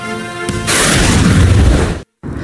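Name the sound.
explosions from airstrikes in Tehran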